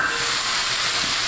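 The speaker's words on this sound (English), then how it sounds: "And I'm going to put the lid back on." Lid set back on a hot skillet of frying chicken, leaving a steady, loud sizzle and hiss of cooking with no voices over it.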